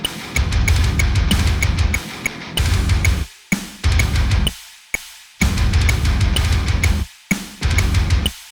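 A printed click track marking accents through a metric modulation plays under dense drumming: bright ticks repeat at a steady pulse while loud kit patterns run in bursts broken by short gaps.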